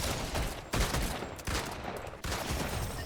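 Pump shotgun fire in the Fortnite video game, a few sharp, heavy blasts spaced about a second apart over a loud, dense background of game noise, with no talking.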